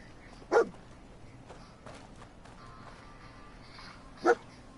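A canine companion in the Fallout 4 video game gives two short, sharp barks or yelps, about four seconds apart, over a quiet background with no talking.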